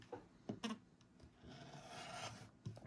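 A small trimming tool rasps across craft pieces being cut to a 2 5/8 inch mark, with a few sharp close scrapes and a longer steady rubbing stretch, quiet and without speech.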